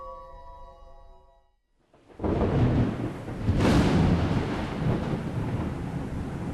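Thunder in Fallout 4 comes after a brief quiet gap, a sudden loud crash that swells into a long deep rumble. Rain-like hiss runs underneath and no one speaks.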